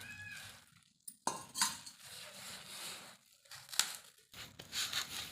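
Spiced flour dough with chilli, garlic, turmeric and cumin being kneaded and gathered into a ball in a bowl, heard as close, irregular squishing, crinkling and scraping bursts with short pauses, no talking.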